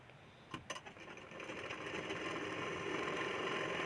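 A sewing machine stitching along the edge of a katori blouse, a few short ticking starts and then a steady whirring run of the needle that builds in speed and loudness, close up and alone.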